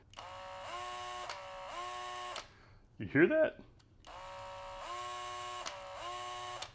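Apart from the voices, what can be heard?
Skil cordless drill motor stuttering as trigger is pulled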